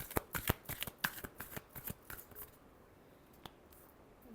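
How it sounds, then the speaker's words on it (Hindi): Tarot cards being shuffled by hand, a quick run of crisp riffling flutters and taps up close, tapering to a few faint clicks and near silence. "Last shuffle."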